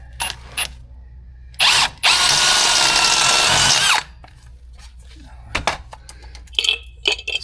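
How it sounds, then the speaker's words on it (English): A power drill with a step bit enlarges a hole in a golf cart, whirring loudly for about two seconds after a brief first burst, followed by scattered clicks and handling clatter. "I do have this magic drill bit, so I'm just gonna make it a little bit bigger."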